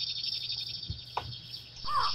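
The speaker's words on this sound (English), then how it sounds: "Oh, it's a cicada." Insect-like buzzing and trilling from a cicada on a tree in the video game Minecraft, heard faintly and continuously with a few brief chirps over the soft ambient game sounds.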